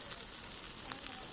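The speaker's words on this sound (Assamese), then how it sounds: "এতিয়া চৰুটো গৰম কৰি তেল দি দিলোঁ, পিঁয়াজ দি দিছোঁ" Onions frying in hot oil in a heated pot, giving a steady, close hiss of broadband sizzle throughout with no pauses.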